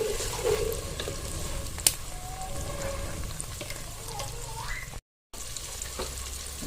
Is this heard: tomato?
yes